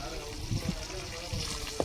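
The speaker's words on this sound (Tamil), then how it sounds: "மீன் பொரிச்சுட்டு இருக்கோம்." Fish sizzling in hot oil, a steady crackling fry with a few soft bubbling pops, close by; faint voices murmur underneath.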